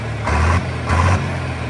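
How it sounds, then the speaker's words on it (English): A 1966 John Deere 4020 Standard tractor with a turbocharged engine, warmed up and running: a steady low drone with two brief swells of rising pitch, loud and close, no voices. "That turbo sound is killer."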